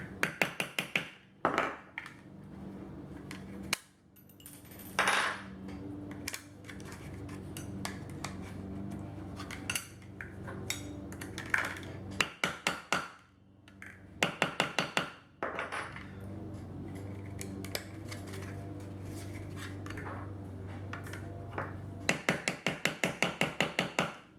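Sharp metallic hammer taps on a rivet setter fastening a kydex sheath, in quick bursts, several clusters of strikes separated by pauses, close up with a faint ringing tone underneath.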